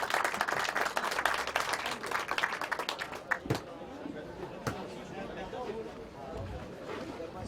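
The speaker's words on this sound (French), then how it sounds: "Vous pouvez l'applaudir." Scattered, fairly quiet clapping from a crowd at a pétanque tournament final, mixed with chatter and hubbub; the claps thin out partway through while murmuring voices continue.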